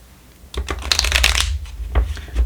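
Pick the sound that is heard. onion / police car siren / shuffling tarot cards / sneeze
shuffling tarot cards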